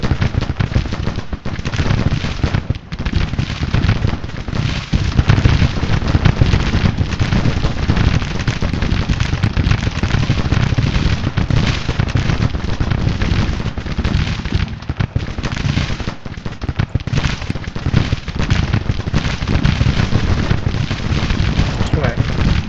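Artillery and gunfire in the Civil War strategy game Grand Tactician, a dense continuous crackle of musketry with booming cannon shots, loud and unbroken, with someone talking over it.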